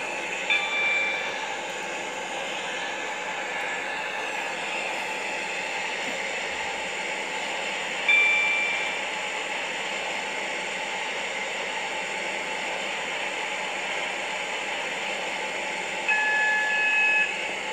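Steady low rumble of a train rolling along rails in a video game on the Stepford Connect line, continuous and even, with faint brief chimes now and then; no talking.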